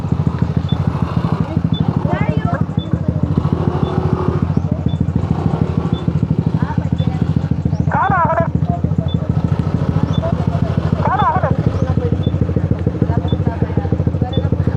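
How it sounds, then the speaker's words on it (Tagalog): A motorcycle engine runs steadily throughout, a continuous low rumble close by, with people talking over it and a few brief high squeaks or calls standing out. "Ang ingay mo eh. Ang ingay ng motor ka"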